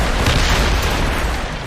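Heavy mortar fire booms in a naval battle in Assassin's Creed Rogue, a loud, continuous roar of blasts and rumbling that fills the whole moment.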